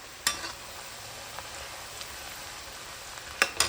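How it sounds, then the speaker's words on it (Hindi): French fries frying in hot oil, a quiet, even sizzle close by, broken by a few sharp crackles and pops near the start and end. "यहाँ पे मैं बना रही हूँ फ्रेंच फ्राइज़"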